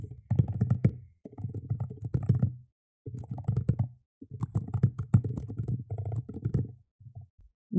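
Code is typed on a computer keyboard in quick rhythmic bursts of clicking keystrokes, broken by short pauses, close and fairly soft with no voices.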